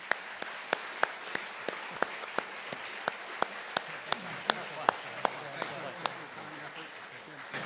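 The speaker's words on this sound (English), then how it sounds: "How about another round of applause for them?" Applause for panelists at a policy discussion on shipbuilding, heard as a steady run of sharp, evenly spaced claps close to the mic over a soft bed of crowd noise, with talk in the background.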